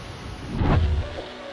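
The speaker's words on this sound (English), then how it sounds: "This short video captures the moment of strong winds, bright lightning, and rumbling thunder as storms swept through the area." A storm over the Brunnen and Schwyz area with heavy rain and gusty wind, a loud low rumble of thunder swelling in the middle and fading, over a constant rain hiss.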